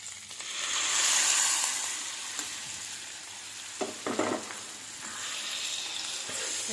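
Gongura leaves frying in a pan give a steady broadband sizzle that swells and fades, with a few brief stirring scrapes partway through, close and moderate.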